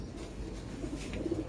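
Pigeons give a few soft, low coos close by, short rounded calls heard against a quiet background.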